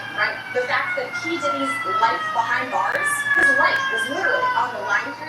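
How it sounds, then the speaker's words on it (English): Emergency vehicle sirens wail on a Manhattan street outside a federal courthouse, a rising and falling tone running under a reporter's continuous live commentary. "You can hear sirens"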